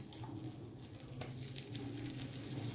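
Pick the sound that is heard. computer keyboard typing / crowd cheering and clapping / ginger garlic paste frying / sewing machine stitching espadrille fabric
ginger garlic paste frying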